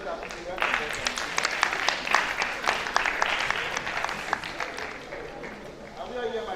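Audience at an annual sociology and anthropology conference claps for a speaker, a sustained round of many hands with distinct sharp claps standing out, tapering off near the end, with some voices mixed in.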